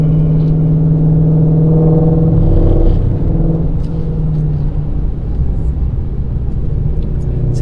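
A Ford Mustang Shelby GT350 pulls hard under acceleration in fourth gear, its engine giving a loud, close, steady rising drone with a deep rumbling note throughout.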